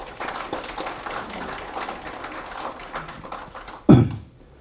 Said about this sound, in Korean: 다시 한번 박수를 부탁드리겠습니다.